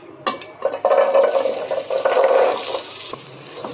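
Vegetables added to a hot pan with cumin while cooking paneer fried rice, giving a short, close sizzle and scraping stir with a few clatters of utensil on metal.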